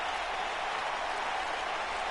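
Capacity crowd applauding at a WCW Monday Nitro wrestling broadcast in Long Island, New York: a steady, dense wash of clapping and crowd noise, fairly distant and even throughout, with no distinct voices.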